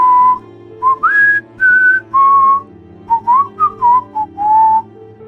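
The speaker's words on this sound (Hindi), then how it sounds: "मिस्टर सान्याल खिड़की की तरफ मुंह किए सीटी बजा रहे हैं।" A man whistles a slow, eerie tune as a horror-story effect, loud and close, in clear pitched phrases separated by short pauses, with no talk over it.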